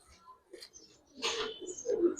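Pigeons at a market stall coo in soft, low bursts, with a denser run of throaty calls in the second half, close by and mixed with faint background voices.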